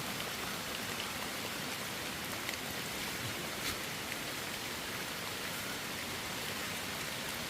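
Steady rain falls through a forest during a roadside hunt for wild mushrooms, a dense, even hiss of drops with no pauses, continuous and fairly close throughout, with no voices.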